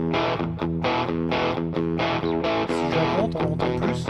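An electric guitar played through a crunch distortion tone with reverb turned down and delay off, recorded in Reaper, strumming loud rhythmic rock chords in short repeated bursts.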